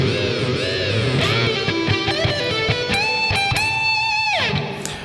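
An electric guitar plays a lead fill over a full metal band mix, with bar dives, bent notes and a sliding, sustained high line that drops away near the end.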